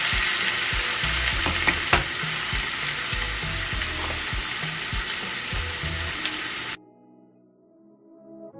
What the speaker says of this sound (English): you want to let these fry until they're nice golden brown and have a nice crispy texture to them